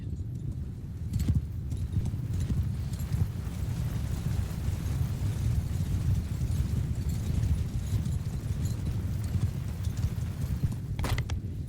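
Steady rumbling hoofbeats of many cavalry horses galloping together in the video game Mount & Blade 2: Bannerlord, a dense continuous clatter with occasional sharper impacts, no talking.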